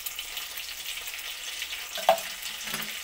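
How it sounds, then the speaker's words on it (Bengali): Four eggs seasoned with salt fry in hot oil, giving a steady, close crackling sizzle throughout with one brief clink partway through. "তেল গরম হয়ে গেলে প্রথমে ডিমগুলো ভেজে নেব।"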